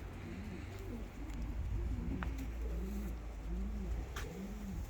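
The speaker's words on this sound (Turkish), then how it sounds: "Kuşlar." Several pigeons coo repeatedly in a coop, their soft rolling calls near and steady over a low constant hum, with a few faint clicks and scuffs.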